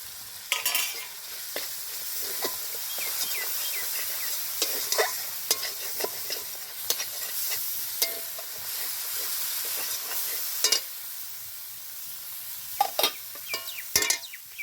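Spices sizzle in oil in a pan with added Kashmiri chili powder for a puti fish chachchari, under a steady frying hiss broken by frequent spatula scrapes and taps.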